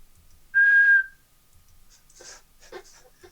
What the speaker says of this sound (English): I thought maybe I could whistle to see whether or not it wakes up.